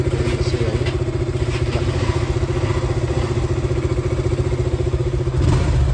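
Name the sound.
KTM Duke 200 motorcycle engine running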